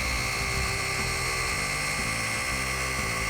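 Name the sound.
Flex 3401 DA polisher buffing car paint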